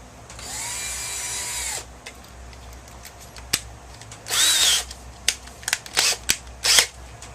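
Power drill driving gray Phillips screws into a mobile home door: one sustained whir near the start, then a longer burst and several short bursts with clicks between them, fairly faint against a quiet background.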